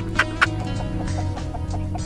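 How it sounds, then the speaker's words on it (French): A hen in a homemade cardboard nesting box gives soft, repeated clucks, close by, with a couple of sharper calls near the start over a low background hum. "j'ai une poule qui est ici"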